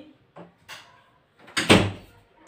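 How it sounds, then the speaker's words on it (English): Several separate knocks and bumps at an indoor door, ending in a louder, fuller thud near the end as it shuts, with no talking. "Close the door."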